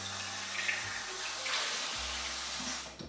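Tap water runs from a faucet while a single plant stem is rinsed, a steady close splashing stream with a low hum that shifts as the flow changes.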